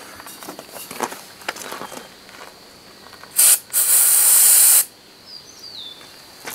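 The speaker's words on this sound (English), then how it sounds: "Cure the problem with a little bit of brake cleaner." Brake cleaner sprayed onto a junkyard vehicle starter, two loud close hissing bursts, a short one and then a longer one of about a second, amid quiet handling noises.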